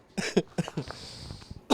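A person coughs in a quick series of short bursts, several harsh hacks close together near the mic, followed by a quieter stretch and one more cough at the end.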